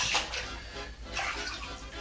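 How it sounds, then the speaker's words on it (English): Water lapping near the docks as a radio drama effect, soft sloshing swells that rise and fall in two gentle waves, close and quiet with no speech. "The lapping of the water near the docks"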